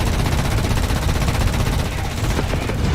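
A vehicle-mounted gun in War Thunder fires a fast continuous burst, a dense rattling stream of shots that stays loud and unbroken throughout.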